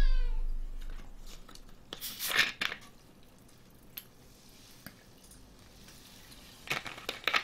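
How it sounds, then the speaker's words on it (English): A cat meowing and crying in Disney's Aladdin on the SNES, a few short plaintive calls that stand out over a quiet, hissy background, broken up by soft clicks and drip-like taps. "Cat is still crying."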